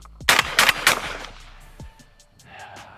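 Three loud shotgun blasts from a Winchester SX4 fired in quick succession at hand-thrown clay targets outdoors, each sharp report followed by a brief decay, then fainter ambient rustle and a small clunk.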